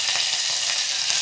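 Garlic fries in a mustard and cumin tempering with curry leaves, a steady bright sizzle with faint stirring scrapes, close and fairly loud, no voices.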